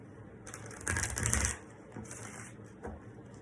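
Soft riffling and clicking of tarot cards being shuffled, a burst of brisk flutters followed by a few quieter shuffles, close and alone.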